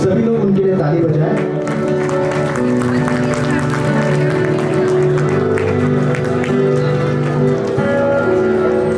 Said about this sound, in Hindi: हम सभी लोग उनके लिए ताली बजाएं।